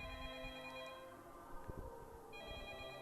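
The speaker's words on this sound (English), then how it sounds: "Pick up the phone, John" A telephone rings in repeated electronic trills with a short gap in the middle, heard fairly faintly over a low background hum.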